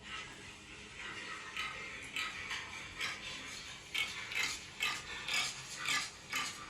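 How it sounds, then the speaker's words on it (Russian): Pig sound in an animal-sound guessing game: a faint run of short, rhythmic grunting bursts that grow stronger and more regular toward the end, with no talking over them. "Правильно, свинья."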